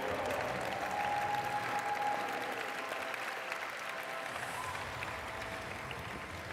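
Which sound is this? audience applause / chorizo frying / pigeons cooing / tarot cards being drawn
audience applause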